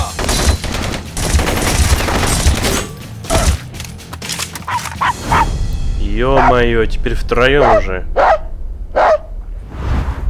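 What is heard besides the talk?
dogs barking and gunfire in the video game Blue Estate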